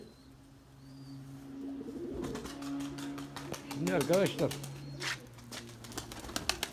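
Erzurum white pigeons coo in soft, repeated rolling calls close by, mixed with other bird sounds, while someone talks over them for much of the time.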